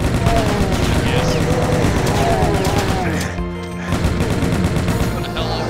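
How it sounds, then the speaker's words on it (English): Rapid chain gun fire from the Doom WAD Eviternity rattles on continuously at close range, dense and loud, with a brief dip in the middle before the burst resumes. "Chain gun snipe, there we go."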